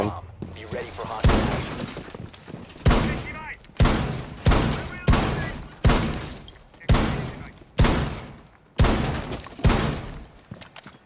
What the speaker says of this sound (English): I can still make rotation holes with my shotgun